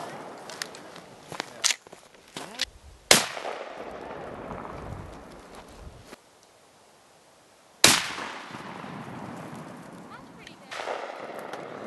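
Gunshots fired at a cabbage outdoors: two loud, sharp reports with ringing tails, preceded by scattered clatter and movement, with voices faint in the background.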